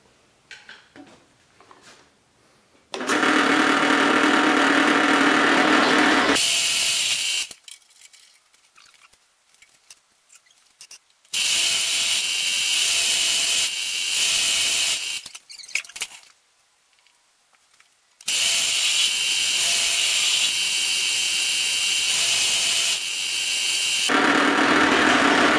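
Loud, harsh CNC drilling with a 6.5 mm bit boring straight-through holes comes in three long sustained bursts, each several seconds, with quieter gaps of faint clatter between them.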